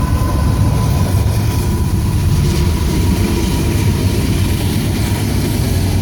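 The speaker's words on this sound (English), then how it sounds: "sorry about the train." A train rumbling past nearby, a steady heavy low roar with rail noise that holds throughout, no voices.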